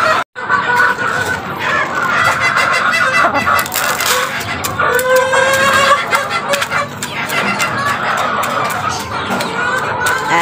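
Chickens and growing chicks cluck and chatter continuously at close range during a backyard feeding, with a rooster-like call standing out midway; the flock noise stays dense and steady throughout.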